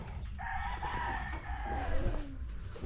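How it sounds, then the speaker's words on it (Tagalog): A rooster crows with a long, drawn-out call amid clucking chickens, heard over steady outdoor background noise. "Mga manok."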